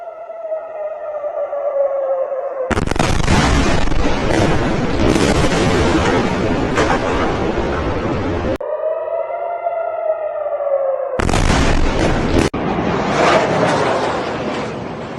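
Wailing civil defense air-raid siren over Tel Aviv under bombardment, its rising and falling tone interrupted twice by long, loud bursts of dense, roaring blast noise.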